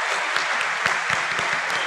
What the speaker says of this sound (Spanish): Aplauso para los candidatos